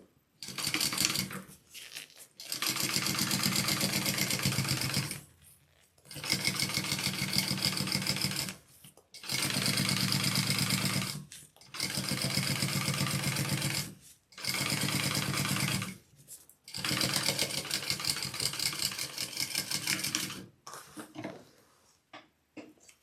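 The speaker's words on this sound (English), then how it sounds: "go ahead and top stitch this up" A sewing machine top stitches a handbag panel in six long, steady bursts of motor whir and needle clatter. Short pauses separate the bursts. It sounds close and loud, with no talk.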